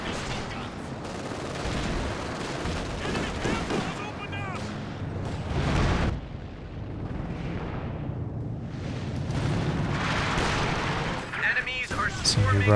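Artillery barrage in a Company of Heroes 2 four-versus-four battle, a string of heavy booms and rumbling blasts that rise and fall over several seconds, with someone commentating over the fire.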